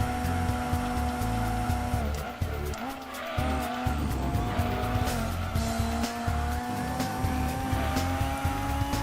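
Race cars scream around the track in the Gran Turismo 2 video game, including a Celica GT-Four and a GT1 car, with steady engine drone, shifting revs and tire squeal, loud and continuous.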